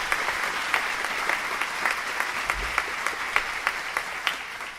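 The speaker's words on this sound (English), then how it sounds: "Reverend Whitaker, please give him the applause." Steady applause from a church gathering for Reverend Stephen Whitaker at an interfaith event, a dense patter of many hands sustained evenly throughout, moderately loud and heard from a little distance.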